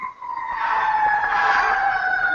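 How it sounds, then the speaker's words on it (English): A fire truck siren wails outside, a steady high sustained tone with a slight pitch sway, moderately loud and somewhat distant, heard alone without talk. "Yeah, probably fire truck"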